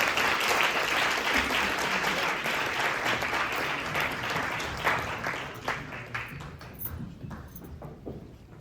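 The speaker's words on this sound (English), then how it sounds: "Now you see why I wanted that second round of applause for Sonal Shah." Audience at a women's empowerment fundraising gala claps loudly in a dense wash that slowly thins and fades into scattered claps.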